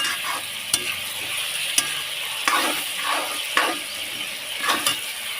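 Vegetables sauté in a hot pan, a loud steady sizzle punctuated by repeated sharp scrapes and taps of a spatula as they are stirred, close up with no talking.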